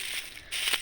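Dried henna leaves crushed by hand over a steel plate, giving a bright, dry crackling rustle in two short bursts close up, with no voices.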